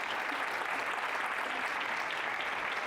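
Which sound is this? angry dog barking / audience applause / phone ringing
audience applause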